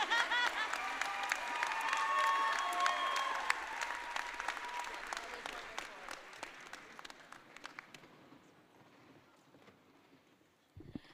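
Audience applause at a law school commencement, loud crowd clapping with voices over it at first, then thinning to scattered individual claps that fade out near the end.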